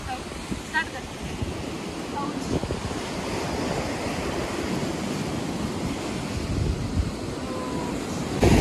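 Ocean surf on a Chennai beach, a continuous loud wash of waves breaking and rolling in close by, with heavy wind buffeting the microphone and faint voices in the background.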